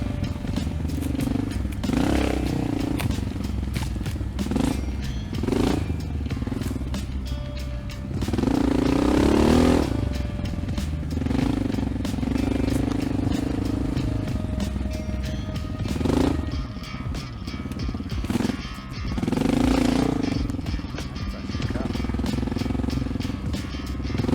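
A Honda XR650L dirt bike pushes through deep sand in Ocala National Forest, its engine droning loudly and surging in repeated revs with clattering and scraping, heard close throughout with no talk.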